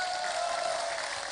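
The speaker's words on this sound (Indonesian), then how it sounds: "Tepuk tangan." An audience at a humorous Javanese Islamic sermon claps in a steady, dense burst of applause, loud and close, with no speech over it.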